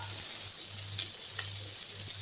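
Soft, steady sizzling of green beans sautéing in a pan, a gentle crackling hiss with a low hum underneath, a few faint clinks and stirs.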